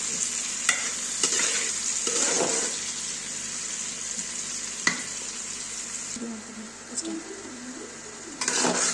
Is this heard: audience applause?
no